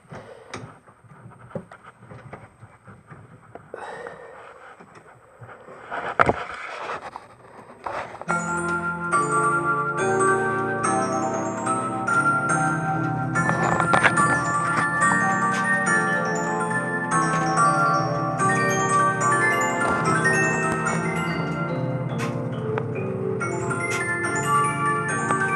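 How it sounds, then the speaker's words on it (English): A Mira music box, wound up and switched on, plays a bright tinkling comb melody of plucked metal tones that runs steadily after a few seconds of clunks and handling noise. "Myra music box that I have over here"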